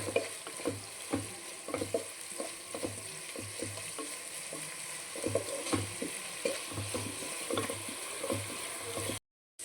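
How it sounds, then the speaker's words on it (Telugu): Sliced onions fry in hot oil while being stirred, a continuous close sizzle broken by regular scraping strokes of a spatula, with no talk over it. "ఆయిల్ వేడెక్కింది కదా ఆనియన్స్ ఫ్రై చేసేసుకుందాం"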